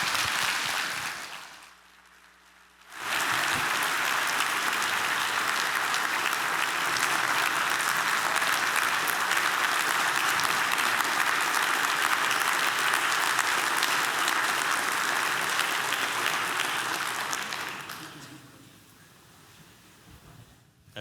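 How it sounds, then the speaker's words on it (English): Sustained applause from an audience at an energy summit after a speech, a dense, even wash of clapping lasting about fifteen seconds before fading away. "Look, they're clapping for me."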